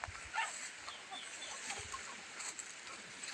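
Palawan native chickens cluck softly in the background, a few short calls rising over a steady outdoor hiss, fairly distant and faint.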